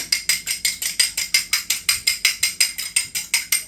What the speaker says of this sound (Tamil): ஒரு முட்டையை எடுத்து நல்லா அடிக்க போகிறேன்